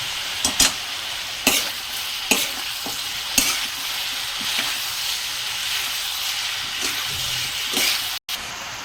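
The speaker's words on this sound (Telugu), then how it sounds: "తొందర ఫ్రై అవుతాయి కదా ఆనియన్" Sliced onions with salt fry in a pan, producing a steady close sizzle broken by several sharp scrape and stir clatters from a utensil, with no voices.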